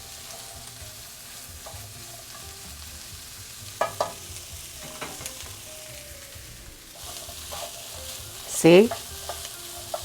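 Fresh sweet corn kernels, cut off the cob, frying and being stirred in a pan, with a steady sizzle and a few scraping stirs. A short word is spoken near the end.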